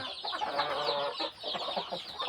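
Chickens cluck continuously at close range on a Thai gamefowl farm, where a seven-month-old golden-hackled rooster mingles with a hen, the busy fowl chatter filling the whole stretch with a brief dip midway.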